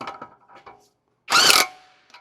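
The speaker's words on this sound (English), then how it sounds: "Then we're going to snug that jam nut up." A ratchet snugs the jam nut on a front outer tie rod end of a 2017-2023 Honda Ridgeline in one brief, loud, close burst of rapid clicking, following a few faint metallic taps.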